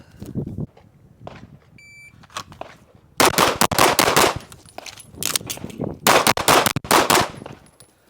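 A SIG P320 pistol with a PMM Flushcomp fires rapid strings of loud, close shots on a scored practice stage, preceded by a short electronic timer beep and a few scattered shots.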